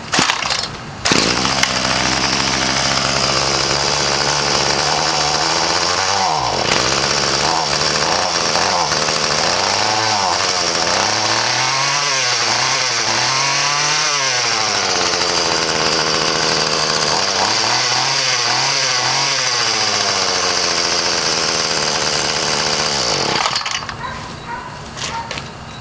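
A small engine cold-starts on half choke and runs loud and close, its pitch rising and falling through repeated revs before cutting off near the end.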